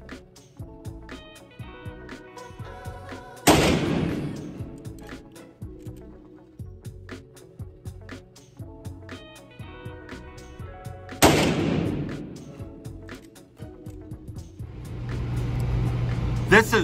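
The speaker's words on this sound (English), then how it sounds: "I'm gonna shoot at this target next and see how we do." Two loud, sharp gunshots from a Rossi Model 92 lever-action rifle in .44 Magnum, fired at a target about eight seconds apart, each with a ringing decay over steady background sound.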